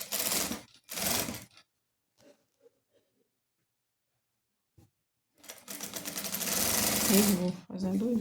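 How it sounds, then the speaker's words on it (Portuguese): A sewing machine stitches all the way around the edge of a fabric headboard cover. Two short bursts of stitching come first, then a quiet pause with faint handling, then a longer, steady run of close, loud motor whirring. "e vou costurar em toda a volta. Com o pé de máquina em toda a volta."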